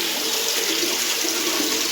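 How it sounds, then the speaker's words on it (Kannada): Water pours steadily from a motor pump into a sump: a constant, loud, close rushing splash that holds unbroken throughout, with no voices. "ಈ ಮೋಟ್ರಲ್ಲಿ ನೀರು ಇಲ್ಲಿ ಬಂದು ಬೀಳ್ತಾ ಇದೆ"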